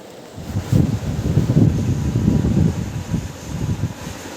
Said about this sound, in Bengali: শুনলে কেমন দমকা হাওয়া দিচ্ছে সেই সঙ্গে অল্প অল্প বৃষ্টিও হচ্ছে